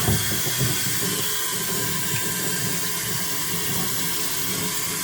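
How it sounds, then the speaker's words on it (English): A brush scrubs the inside of a Corvette C4 plastic coolant tank with water, making a continuous loud hissing, sloshing wash that stays steady throughout, close up with no voices. "First scrub."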